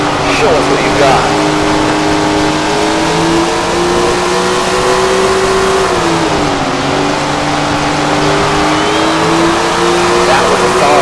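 A sprint car engine drones steadily through a qualifying lap in a Tony Stewart sprint car racing video game, loud and continuous with a brief dip in revs midway, accompanied by tire noise and game audio.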